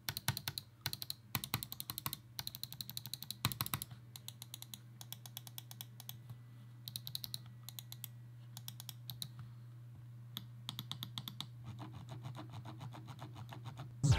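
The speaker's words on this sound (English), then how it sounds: "The clicks from the main left and right buttons feel very responsive and they give a very tactile click" Rapid, crisp clicks of the buttons on a Logitech G703 gaming mouse come in quick irregular bursts with short pauses between, close and isolated against a faint background hum.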